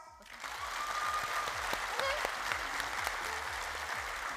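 Audience applause at a university technology entrepreneurship pitch competition, a steady, dense wash of many hands clapping together for about four seconds, fairly close and even, with faint murmurs and a voice or two beneath it.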